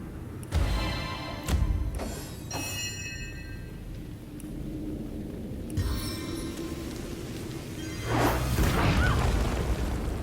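In the Divinity Original Sin EE boss fight, the Boulder Bash spell lands with heavy booming impacts and crashes, and rushing whooshes and bursts mix with game effects over about ten seconds.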